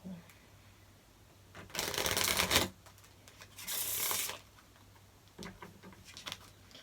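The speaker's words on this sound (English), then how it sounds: "One more shuffle." Two quick riffle shuffles of a deck of cards, each a dense fluttering burst of about a second, followed by softer handling taps.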